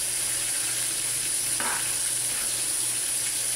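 Cabbage goes into a simmering pot of pork ribs lomi soup, giving a soft sizzle and hiss over steady kitchen background noise, with one brief stirring scrape partway through and no talking.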